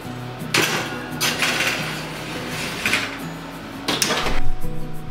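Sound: dish being put into the oven

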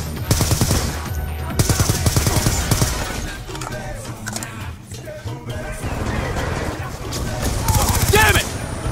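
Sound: gunfire in video game Call of Duty Black Ops II

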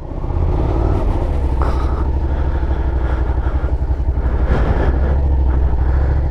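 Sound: riding a Suzuki SV650 motorcycle

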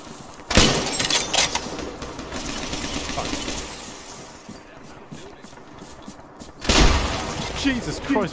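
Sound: grenade explosion in video game Arma 3

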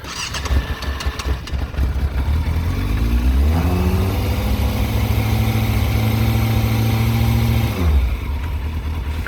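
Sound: Yamaha FZS Fazer 600 motorcycle engine starting and idling

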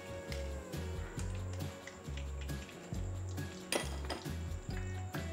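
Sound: scooping golden fried tempeh out of hot oil

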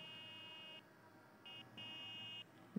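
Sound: motorbike horn in video game

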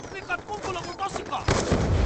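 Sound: sticky grenade exploding in Call of Duty video game

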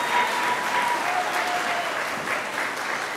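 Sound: audience applause at kindergarten celebration

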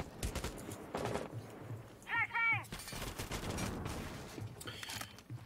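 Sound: gunfire in a tactical shooter video game

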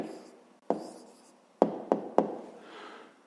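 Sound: writing down the answer by hand

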